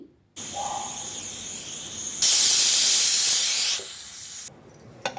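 Pressure cooker on a stove releasing steam through its lid whistle while cooking pongal, a loud continuous hiss that swells sharply for a second or so, then drops back and cuts off.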